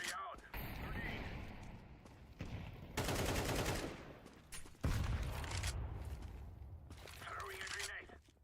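Video game combat: gunfire and grenade blasts come in loud, dense broadband bursts broken by short gaps, with a voice now and then.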